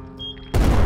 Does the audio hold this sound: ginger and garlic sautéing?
no